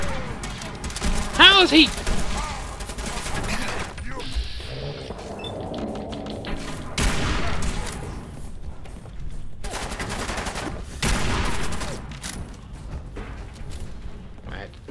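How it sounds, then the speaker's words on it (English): Laser rifle fire in the Fallout 4 video game, a burst of sharp zapping shots early on followed by further scattered shots amid game effects, with someone talking over much of it. "God darn laser rifle"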